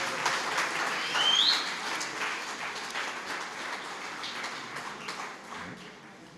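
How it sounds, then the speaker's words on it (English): Audience applause fills a book launch event, a steady broadband patter of many hands clapping at moderate distance, holding evenly throughout with a brief swell early on. "Let's give him another round of applause, ladies and gentlemen."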